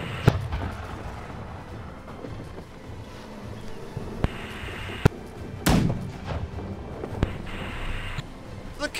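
Ship cannons boom during a naval battle in the pirate game Blackwake: several sharp, irregular blasts with one heavy, loud discharge standing out, set against a steady rush of wind and water.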